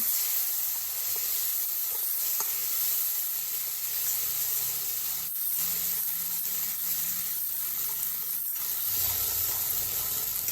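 Spice paste sizzles in hot oil with whole cumin, dried red chillies and bay leaf for a pointed gourd and rohu fish curry, a steady close hiss of frying with occasional crackles.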